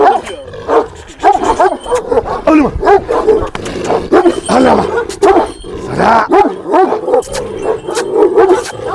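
A Kangal-like Turkish shepherd dog of Afyon stock barks repeatedly on a village farm, loud close yelping barks with whimpering tones in rapid irregular bursts, with people talking in between.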